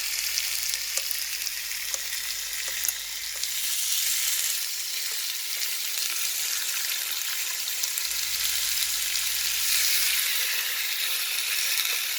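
Salmon fries in a hot pan greased with a little oil, a loud, continuous bright sizzle and crackle that runs unbroken and close with slight swells.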